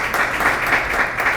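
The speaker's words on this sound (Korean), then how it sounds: "예, 박수" Audience applause at a Korean Christian media forum after a pastor is introduced as a speaker, a steady wash of clapping from a seated crowd lasting the whole short moment.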